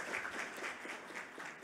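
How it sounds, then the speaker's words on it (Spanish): A room of attendees at a technical workshop applauds the instructors, a soft, even patter of many hands clapping at a distance, brief and without speech. "Un aplauso para ellos"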